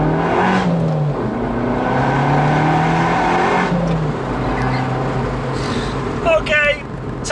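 An Abarth 695 Rivale small hatchback engine revs and pulls through rising gears, loud and close, with a raspy exhaust note and a few pops near the end, while a voice talks underneath.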